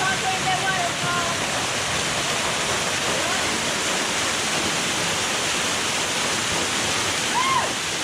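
A constant, loud roar of rushing water from a nearby waterfall on Roatan fills the scene, with faint voices briefly audible beneath it.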